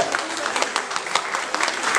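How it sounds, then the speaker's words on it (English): Dense, steady applause from a crowd at a kathak dance performance, many hands clapping continuously throughout with no pauses. "We should give a big applause to her"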